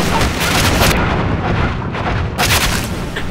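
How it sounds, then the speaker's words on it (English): Heavy booming blasts from a boat's cannon fire again and again in a dense, loud barrage on a pirate map in CS:GO, with no pauses between them. "Shoot with cannon that's in the boat!"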